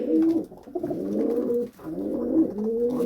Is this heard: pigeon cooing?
yes